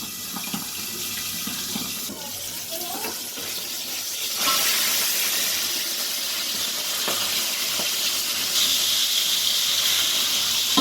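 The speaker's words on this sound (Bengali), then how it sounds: "দেখো মাছটা ভাজা হয়ে এসছে, আর একটু হলে মাছটা তুলে নেব" Pabda fish fries in hot oil in a pan, giving a continuous close sizzling hiss that grows louder and brighter partway through and stays steady with no talk.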